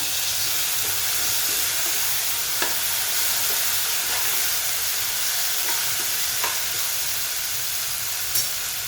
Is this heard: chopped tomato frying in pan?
yes